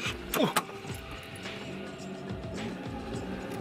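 A car shifted into reverse gear while still rolling forward, a couple of sharp mechanical clunks and a whining squeal at the start, followed by a steady low engine rumble and faint knocks.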